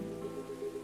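Steady rain falling in the cozy café of the game Coffee Talk, a soft continuous patter held at a low, even level throughout, with no voices over it.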